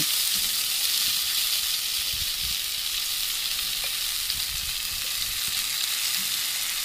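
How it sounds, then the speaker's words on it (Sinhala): Long bean pod mixture frying in hot oil, a loud, continuous close hiss and crackle with faint stirring, no talking. "තෙල් ටික හොඳට රත් වෙනකොට අපි හදාගත්ත මෑ කරල් මිශ්‍රණය මේකට දාගන්න."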